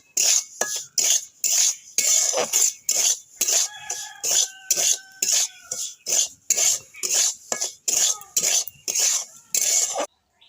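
A utensil stirs and scrapes in a pan while frying for homemade black salt (bit lobon), producing rhythmic, regular scraping strokes about once a second, close and distinct, with brief pauses between them.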